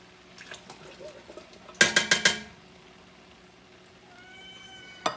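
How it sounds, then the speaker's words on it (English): A cat meows a few times in a kitchen during cooking, soft at first and then clearer, after a quick burst of clattering dishes. No one speaks. "I got a kitty, thinks I'm cooking for him right now"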